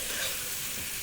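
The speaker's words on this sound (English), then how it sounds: "Now that wants really a little bit longer frying" Meat fries in hot fat in a pan for a French country casserole, giving a brief, soft, steady sizzle.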